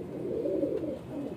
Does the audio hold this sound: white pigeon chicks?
yes